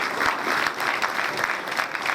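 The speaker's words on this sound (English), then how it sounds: "Please give me a big round of applause." A graduation ceremony audience for a senior executive course gives steady, dense applause, many hands clapping continuously and fairly loudly for about two seconds with no talk over it.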